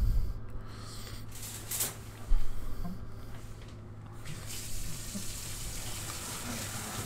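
Shower water running steadily in the horror video game Emily Wants to Play, a continuous hiss with faint knocks and clicks, moderately quiet throughout.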